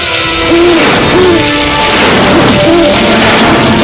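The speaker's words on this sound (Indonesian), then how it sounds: "Burung hantu." An owl hoots in an Indonesian fantasy TV film scene, several low, steady hoots repeating through a loud, dense background wash that persists for nearly four seconds.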